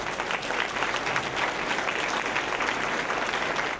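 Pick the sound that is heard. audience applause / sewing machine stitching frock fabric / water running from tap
audience applause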